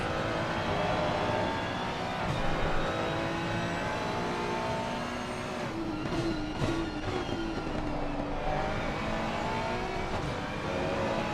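Ferrari race car at the Mount Panorama circuit, its engine note dropping under heavy braking and then climbing again as it accelerates, a dense steady roar with shifting harmonic pitch throughout.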